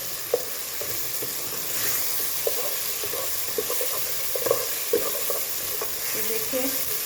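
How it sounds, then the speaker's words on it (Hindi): Onion, garlic and ginger frying in a pan for a mixed vegetable sabzi while being stirred, with a steady close sizzle and scattered scraping clicks of the spoon against the pan, no talk. "1 से 2 मिनट तक हम इसे हिलाएंगे इस तरीके से, जैसे प्याज का कच्चापन है और लहसुन अदरक का वो थोड़ा सा ख़त्म हो जाए।"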